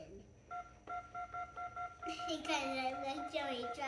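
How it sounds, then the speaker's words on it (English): An old telephone's keypad sends a steady series of short DTMF dialing tones, evenly spaced and close. A voice then babbles and talks over the final stretch. "That's what old phones used to sound like, buddy."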